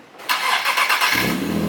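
A stock-exhaust Nissan 370Z Nismo starts up with a short cranking burst that catches into a low, quiet idle, heard up close with no voices.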